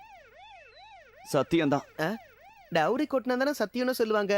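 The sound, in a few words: siren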